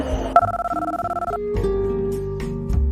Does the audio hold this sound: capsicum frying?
no